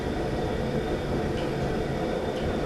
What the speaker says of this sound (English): I'm going to go ahead and turn on my burner